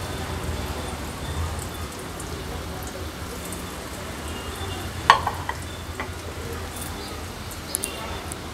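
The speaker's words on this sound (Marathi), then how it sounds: "एक एक करून हे कोट केलेले प्रॉन्स तेलावर सोडायचे आहेत" Breadcrumb-coated prawns frying in hot oil over a medium flame make a steady, close sizzle and bubbling hiss, broken by a few sharp pops and spits.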